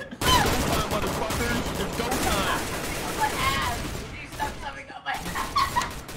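Rapid gunfire bursts ring out in a Garry's Mod police roleplay game, dense and loud through the opening seconds, then thinning out while several voices shout and talk over the shooting.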